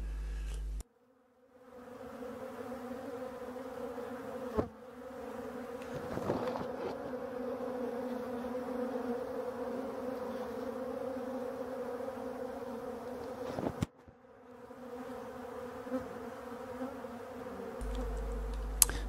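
Dense, steady buzzing of many bees swarming close by over honey super frames, a continuous droning hum with brief dropouts, no voices.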